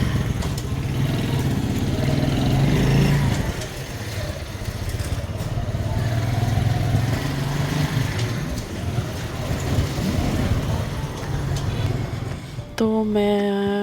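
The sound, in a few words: motorcycle ride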